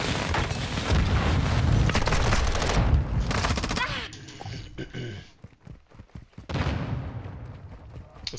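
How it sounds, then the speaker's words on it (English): A grenade explosion amid rapid gunfire in a first-person shooter game, loud sustained bursts of shots followed by a heavy blast, then scattered shots and crackling debris, with a game voice calling out briefly. "Grenade out."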